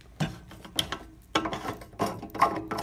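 Plastic swivel assembly of a Gorilla hose reel being pushed into place, making several sharp mechanical clicks and ratcheting snaps in short bursts, close up with no talking.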